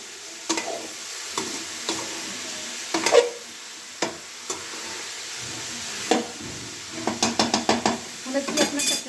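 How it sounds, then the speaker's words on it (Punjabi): A spoon stirs cauliflower and peas sabzi in a pan over a soft sizzle, producing scattered metallic scrapes and clanks followed by a quick run of rhythmic taps, close and without talk. "ਇੱਕ ਵਾਰ ਅਸੀਂ ਹਿਲਾ ਲਾਂਗੇ ਇਹਨੂੰ ਤਾਂ ਜੋ ਸਾਡੀ ਗੋਭੀ ਉੱਪਰ ਥੱਲੇ ਹੋ ਜਾਵੇ"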